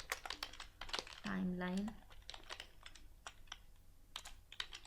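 Clicky computer keyboard keys typing code comments for an HTML and CSS timeline project, quick bursts of close keystrokes with pauses, while someone talks over the first half.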